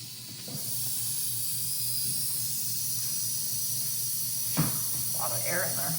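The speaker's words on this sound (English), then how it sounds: "We'll get all the air out of the water heaters." Air hisses steadily out of household water lines and water heaters in a farmhouse bathroom, a continuous rushing sound broken by a sharp knock and a brief voice near the end.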